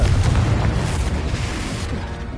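Fiery Confringo spell blast from Hogwarts Legacy: a heavy, roaring explosion with a rumbling low end that swells at once and slowly fades over about two and a half seconds, heard alone.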